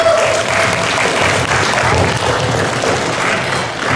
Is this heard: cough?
no